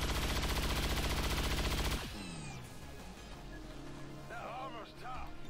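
Rapid automatic gunfire in the turn-based strategy game XCOM 2 rattles loudly for about two seconds and then cuts off, leaving ringing decay and game effects, with a voice speaking over the later part.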